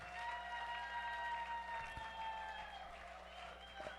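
A church congregation applauds in a continuous wash of clapping heard at some distance under a sustained keyboard or organ tone, with a few low knocks.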